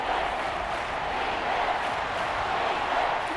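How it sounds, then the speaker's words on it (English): Simulated stadium crowd at Arrowhead Stadium in a Madden NFL 25 football game, a steady broad roar with no breaks, loud and continuous with no speech. "The Arrowhead crowd in full roar"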